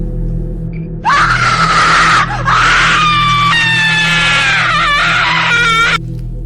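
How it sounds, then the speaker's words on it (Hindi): A boy's long, piercing scream in a forest, produced as an audio drama effect, rising in several strained, wavering bursts over a low steady background hum, loud and close. "किसी लड़के की चिल्लाने की आवाज आई"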